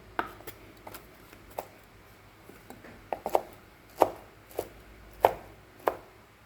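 Knife chopping through mushrooms on a cutting board, irregular sharp thuds, sparse at first then louder and more frequent, close up, no talking.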